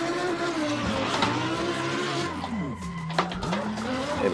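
A BMW 1M drifts through a sweeping corner on the CG Woodlandz track in a driving game, its engine note rising and falling steadily while tires squeal in long wavering smears, close and continuous throughout.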